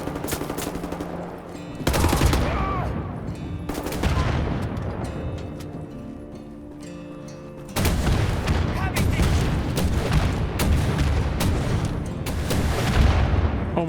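Rockets and gunfire in a video game fire in loud bursts, a dense roaring barrage that drops off and then resumes, continuing almost without a break.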